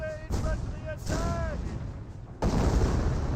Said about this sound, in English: And that may be a decoy barrage.